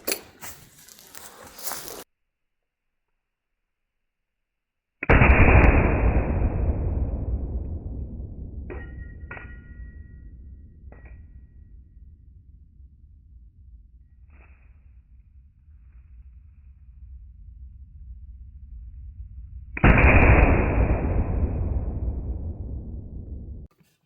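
Two loud rifle shots ring out against steel targets, each followed by a long decaying ring, with faint metallic pings and taps between them.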